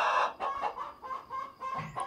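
Chickens on a rural provincial farm clucking in short repeated bursts, fairly close and loud, with a few rising calls scattered across the moment and no talking.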